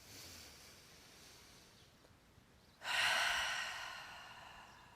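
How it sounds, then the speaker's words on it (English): After a quiet stretch, one deep exhale through the mouth during a power yoga session rushes out close and clear, then fades slowly, with no one speaking. "exhale through the mouth"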